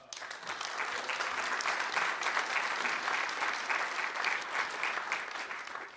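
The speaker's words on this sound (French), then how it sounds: "ils méritent vos applaudissements" Conference audience breaks into steady, even applause, a dense continuous patter of many hands that holds for several seconds at moderate loudness.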